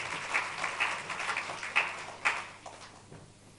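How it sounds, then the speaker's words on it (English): Scattered applause from a conference audience in a hall, fairly faint and thinning out, with a few louder individual claps standing out near the middle. "A round of applause, please."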